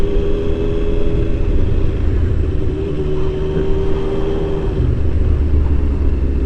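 A Triumph Daytona T595 sport motorcycle rides with its exhaust roaring, a loud, steady, deep engine rumble holding constant throughout with no voices.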